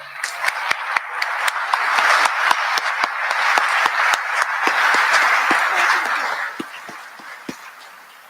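Audience applause at a cyber challenge awards ceremony, a crowd of hands clapping steadily for several seconds with a few sharper individual claps, then tapering off toward the end.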